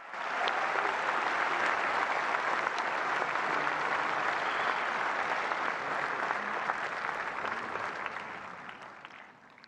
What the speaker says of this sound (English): Give a big round of applause for the Honorable Prime Minister.